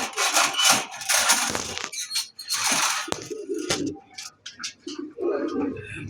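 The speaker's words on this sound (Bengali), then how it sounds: "এটা আছে পায়রা" Pigeons for sale coo repeatedly in a close cage, soft throaty calls in uneven bursts with rubbing and scraping noises and occasional voices in between.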